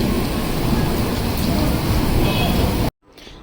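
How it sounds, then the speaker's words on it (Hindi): Steady, heavy rain falling after a night of rain, a dense, even hiss that continues without pause and then cuts off abruptly, leaving near silence. "पूरी रात बारिश होती रही"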